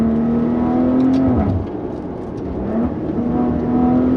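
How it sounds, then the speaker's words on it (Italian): A 2017 Maserati Ghibli sedan engine hums and revs steadily, dropping briefly as if easing off for a curve, then climbing again, heard from inside the car. "Sentite come canta questo motore qui tra le curve"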